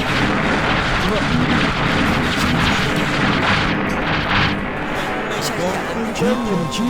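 Continuous machine gun fire in a horror action video game, a dense loud rattle with booming impacts that runs throughout, mixed with other game sounds.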